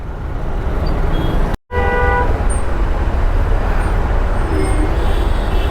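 Loud, constant roar of heavy peak-hour road traffic in Delhi with engines rumbling close by; a single short car horn honks briefly early on.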